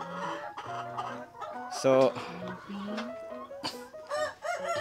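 Backyard farm chickens clucking and squawking near and loud, with one brief louder call, while a person talks over them.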